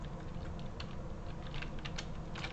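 Keys tapped on a computer keyboard in quick, uneven bursts of light clicks, close and fairly quiet over a low steady room hum, with no one talking.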